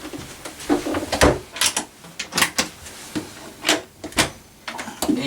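Cutlery drawers in the galley of a 2004 Riva Rivarama 44 motor yacht slide and clack, with a series of sharp knocks and rattles of utensils, close up, with no talk.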